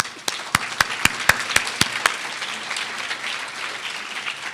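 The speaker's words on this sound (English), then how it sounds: "And so big round of applause for the doctors." A conference audience in a hall applauds the doctors: a brief burst of clapping with several sharp, evenly spaced claps up front, then a softer, sustained patter of many hands that carries on without any talk.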